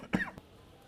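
A single short cough, close and fairly loud, followed by a faint catch of breath and then quiet room tone.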